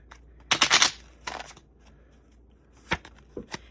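Playing cards are shuffled in two quick riffling bursts, followed by a few sharp taps as the deck is squared up.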